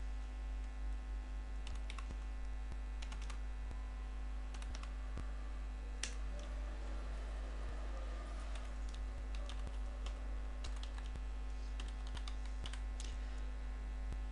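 Steady typing on a computer keyboard while PHP code is entered, a continuous run of light, close key clicks with occasional louder taps over a constant low electrical hum, and no talking.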